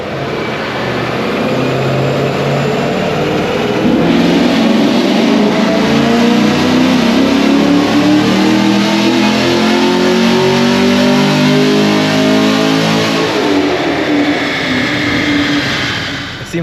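A 2024 Chevrolet Camaro SS fitted with long-tube headers and a new intake revs hard, its loud engine note sweeping up and holding high before dropping back, close and continuous for about sixteen seconds.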